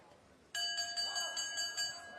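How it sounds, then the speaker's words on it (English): A boxing bell ends the eleventh round of a heavyweight title bout at World Siam Stadium. It strikes once, sharply, and keeps ringing with a bright sustained tone over low arena background noise. "Oh, hit on the bell as well from Alessio"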